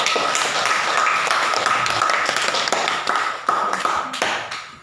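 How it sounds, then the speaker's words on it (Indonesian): Applause for a group from a primary school class during a Qur'an lesson, a dense patter of many hands clapping at close range, steady throughout with a few sharper claps standing out, no talking over it. "kita berikan aplaus"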